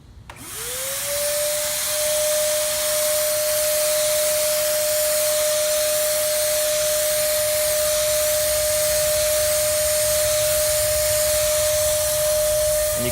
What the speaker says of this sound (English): what I'm going to do is just heavily spray it and push it toward an edge